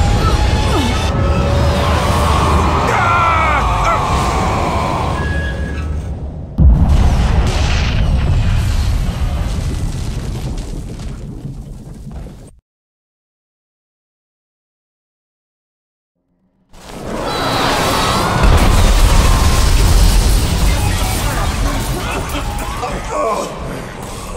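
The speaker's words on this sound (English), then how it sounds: "Shoot those tanks! The blast compression will shoot the tanks!" Tanks exploding from blasts in the video game Bulletstorm, heavy booming crashes and rumbling destruction mixed with loud game effects and shouted talk, cutting to silence for a few seconds before the noise resumes.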